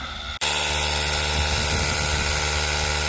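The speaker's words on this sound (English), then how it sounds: "Right then, we've got the compressor on the go." A 12 volt portable air compressor inflates a Tesla Model Y tyre, switching on after a brief pause into a steady, loud, close buzzing drone that holds without change, with no talk.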